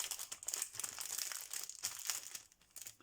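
Paper crinkling and rustling as an envelope is opened, a steady close-up stream of crisp crackles and small tears with no voices.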